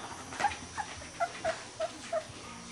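Three-week-old puppies whimper in about six short, high, thin cries spaced roughly evenly over a few seconds. The cries are soft and close, with quiet room noise between them and no talking.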